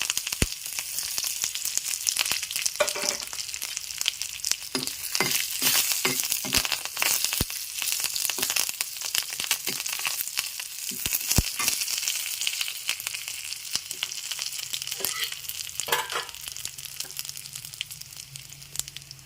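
Curry leaves and tomatoes crackle and pop sharply in hot tempering oil, a continuous sizzle with frequent loud spattering bursts throughout.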